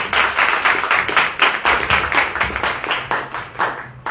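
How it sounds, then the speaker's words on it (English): Audience applause for contestants at a political candidate forum, steady clapping from a crowd with rhythmic claps throughout, fairly close and moderately loud, no talk over it. "let's give a round of applause for our contestants"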